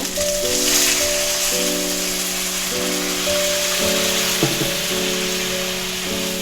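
Steady, loud sizzling as spice water hits papaya curry frying in a pan, a constant hiss running throughout with light clatter, while background music plays over it.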